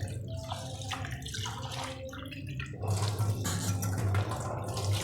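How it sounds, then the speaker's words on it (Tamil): Running tap water pours steadily while urad dal is rinsed, growing louder and fuller about halfway through, with a continuous splashing flow and no talking. "நல்லா கழுவிட்டோம். இன்னும் ஒருக்கா கழுவிடுவோம்."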